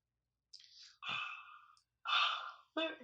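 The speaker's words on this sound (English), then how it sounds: "She yawned." A person yawns and breathes heavily, with a long drawn-out breath followed by two more breathy exhalations, close and intimate against otherwise silent background.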